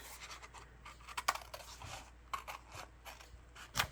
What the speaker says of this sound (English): I just fold this and I take my scissors